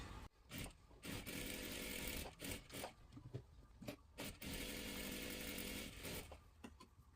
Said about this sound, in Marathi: इथे सर्वात आधी डबल शिलाई मारून घ्यायची आहे